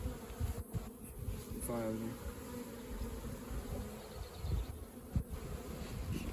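Honeybees buzz around a hive steadily in a dense, close swarm, a continuous droning hum with faint handling noises mixed in.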